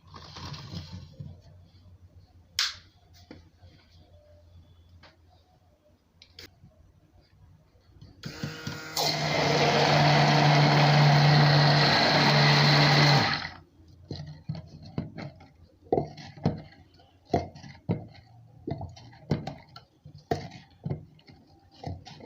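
An electric mixer blending turmeric and neem soap batter, a loud steady whirring burst of about five seconds, framed by quieter clicks and handling knocks before and after.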